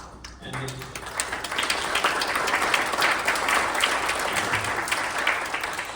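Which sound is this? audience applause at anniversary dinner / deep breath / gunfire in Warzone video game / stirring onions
audience applause at anniversary dinner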